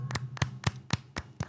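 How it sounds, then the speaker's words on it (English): A single person claps slowly for a gaming console-wars segment, six sharp, evenly spaced claps close to the mic over a faint steady hum. "Round of applause."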